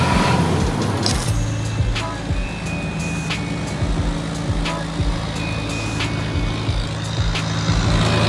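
A loud old wooden city bus in Bangkok rumbles with a heavy low engine drone, heard from close by, with repeated clacks and rattles over it.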